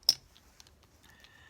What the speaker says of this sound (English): how to shuffle chips, just like so.